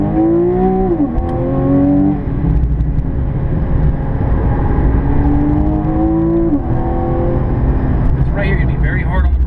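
A Porsche sports car accelerates around the Barber race track, its engine climbing through repeated rising revs with gear-change dips, loud and close from inside the cabin while an instructor talks over it.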